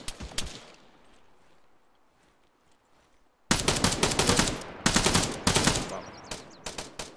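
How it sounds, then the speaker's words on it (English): Bursts of machine-gun fire in the military shooter ArmA: a short volley at the start, a quiet stretch, then loud rapid bursts close by, with a brief exclamation. "Fire from outside, watch out."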